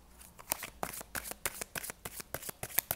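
Tarot cards are handled and laid down in a quick series of crisp, close slaps and flicks, about a dozen in three seconds, with no talking.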